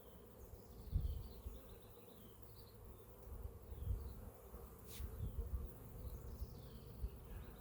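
Soft, steady buzzing of many honeybees swarming around a hive, with a few low bumps and knocks underneath.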